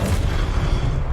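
A deep, sustained rumbling boom from a Confringo fire spell in Hogwarts Legacy, heavy and close, filling the whole short moment.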